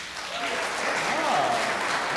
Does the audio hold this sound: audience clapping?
yes